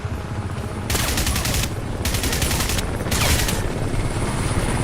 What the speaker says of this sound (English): First we need to deal with this helicopter.